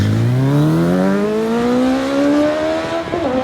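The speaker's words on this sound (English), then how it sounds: "Nice clean straight run for George" A Suzuki Hayabusa street drag bike on a straight drag run roars loudly through a rising engine pitch, revving up steadily through the gear, close and alone with no talk.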